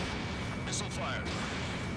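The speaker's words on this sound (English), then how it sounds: "Missile fired." A missile launches from a fighter jet in Ace Combat 7 with a short whooshing blast over a constant engine rumble, heard beneath a voice.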